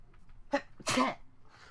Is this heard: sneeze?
yes